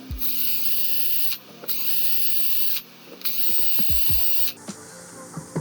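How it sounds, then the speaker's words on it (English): A power drill boring holes into a Sega Dreamcast console case, three long steady whining runs separated by brief pauses, each ending with a clatter, followed by scattered clicks and handling noises. "we're just going to drill our holes"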